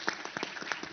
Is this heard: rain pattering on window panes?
no